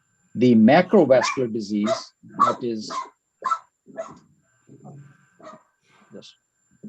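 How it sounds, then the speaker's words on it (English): A pet dog barks in short bursts during an online diabetes wellness webinar, the barks mixed in with a man's ongoing lecture and partly masked by it. "that's my dog"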